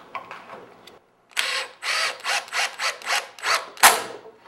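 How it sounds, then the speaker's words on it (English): A power drill drives screws into pocket holes in wood with a clamp on top, heard as a run of about six short, loud whirring bursts with a sharp final surge, after a quieter scratchy lead-in. "I'm ready to run in these screws."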